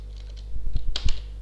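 A short burst of typing on a computer keyboard, several quick close key clicks at an uneven pace, over a low steady hum with no speech.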